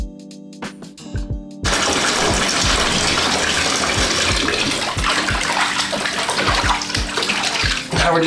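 Tap water gushes into a bathtub to rinse soap from Levi's 1954 LVC shrink-to-fit jeans, a few splashes and clunks first, then a loud steady close rush with faint knocking underneath.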